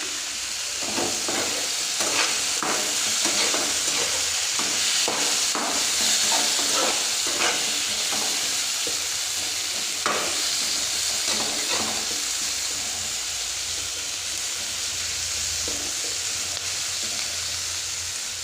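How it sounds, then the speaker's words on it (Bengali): Potatoes frying in a pan on a home stove, a steady close sizzle with repeated stirring scrapes and clinks throughout, no talk. "যে আলু ভাজতেছি,"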